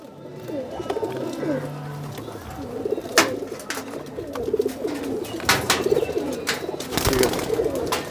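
Lili pigeons coo continuously in overlapping rolling calls, fairly loud and close, with scattered sharp knocks and rustles that may be wing flaps mixed in.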